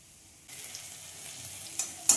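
Spices being sautéed for a vegetarian cabbage curry, made without onion or garlic, give a soft steady sizzle with light stirring, then a louder scrape near the end.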